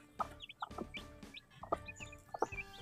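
Chickens and chicks clucking close by in a yard, with repeated short clucks and higher peeping calls spread irregularly throughout.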